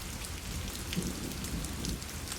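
Steady rain falls on the Appalachian Trail, a dense, even hiss of drops pattering on surfaces with a low rumble beneath, continuous and close with no voices.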